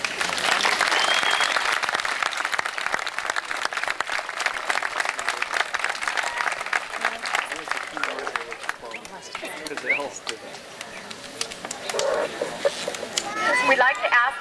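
Applause from the audience at an 8th grade graduation ceremony, loud and dense at first and then thinning out, with voices and crowd murmur mixed in as the clapping fades.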